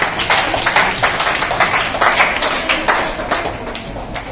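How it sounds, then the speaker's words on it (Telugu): An audience claps at a Nehru Yuva Kendra gathering in Hyderabad, Telangana, a dense, loud patter of many hands that holds steady for a few seconds. "Claps to that person."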